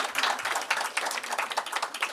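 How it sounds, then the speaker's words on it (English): Audience applause at the 63rd Annual General Meeting of the Sussex Wildlife Trust: a dense, steady patter of many hands clapping close by, sustained for a couple of seconds with no talk over it. "Round of applause."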